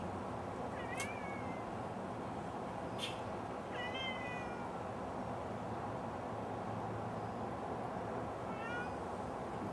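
Siberian forest cat, a long-haired cat, meowing several times. The meows are faint and sound a little distant, standing out over a steady background hiss.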